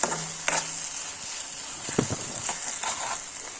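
Modhuhulang, an Assamese dish, fries and is stirred in a pan: a steady close hiss of oil with scraping stirs coming at irregular intervals and no talking.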